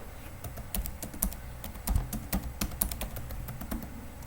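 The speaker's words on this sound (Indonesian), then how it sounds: "Sini saya akan masukkan passwordnya dan enter" Password being typed on a computer keyboard, a close run of quick uneven key clicks with a few heavier presses and no talk.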